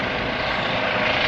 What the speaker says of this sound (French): le bruit que vous entendez c'est tout simplement un hélicoptère dans la gendarmerie qui